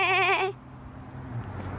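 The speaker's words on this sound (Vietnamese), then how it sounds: "cừu này các bạn ơi" A sheep at a farm animal enclosure lets out one loud, wavering bleat up close, followed by open-air background noise from the pen.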